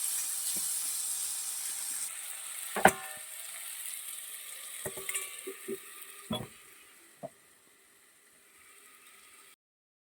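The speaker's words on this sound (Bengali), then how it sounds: "এদিকে আমি আলু ভাজা বসিয়ে দিয়েছি" Potatoes frying in a pan give a faint hiss that fades over several seconds, broken by a few sharp clinks and knocks of a utensil near the middle, close but quiet.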